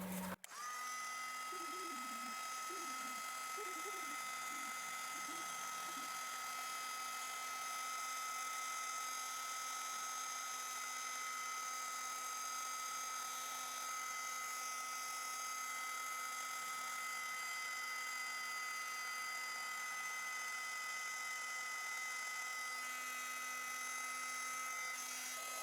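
An electric heat tool blows steadily from underneath, melting white embossing powder and thread for a neon craft background; a constant whining hum runs the full length, loud and unbroken, with a few brief low tones early on and no talk.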